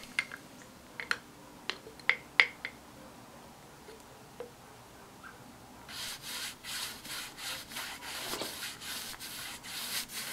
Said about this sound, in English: I'm now going to give it a coat of paint all the way around the sides.